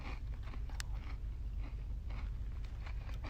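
Crisp crunching bites into a crunchy chocolate carrot-shaped candy filled with milk and cocoa paste, a few close, dry cracks and chewing noises over steady background hum.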